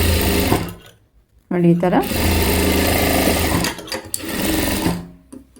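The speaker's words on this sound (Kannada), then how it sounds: "ಹೊಲಿಗೆ ಹಾಕಿ" A sewing machine stitches the lining of a work blouse in quick bursts, running fast, pausing briefly, then running again, while someone talks over it.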